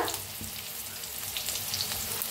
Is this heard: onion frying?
yes